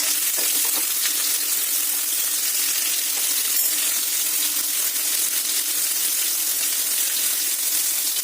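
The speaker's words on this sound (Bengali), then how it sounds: "ফুলকপিটাকে আমরা ভালোভাবে ভেজে নেব।" Cauliflower frying in a pan for a yogurt cauliflower dish, giving a steady, dense, close sizzle that holds evenly throughout with no voices.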